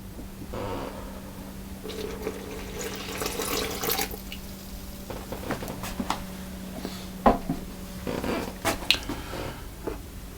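Milk is poured into a bowl for cream bun dough, a trickling pour over a steady low hum, followed by scattered clinks and handling noises, with no voices.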